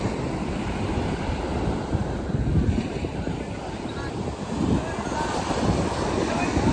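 Ocean waves break on Alappuzha beach in a continuous rumbling wash. Strong wind buffets the microphone, so the surf sounds near and rough throughout.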